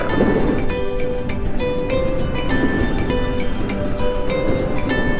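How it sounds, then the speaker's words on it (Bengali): Strong storm wind by the Padma riverbank rushing steadily and loudly into the microphone as a continuous roar, with faint tonal hum beneath. "আপনারা দেখতেই পাচ্ছেন যে কতটা মানে জোরে বাতাসটা বইতেছে"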